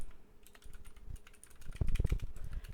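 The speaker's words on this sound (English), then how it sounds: "you just duplicate it and type in your name." A name being typed on a computer keyboard: irregular, close key clicks that grow denser and louder toward the end, with no speech.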